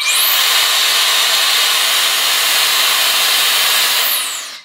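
A Shark FlexStyle hair styler runs loud and close, giving a steady, high-pitched airy whine for nearly the whole stretch before it cuts off at the end.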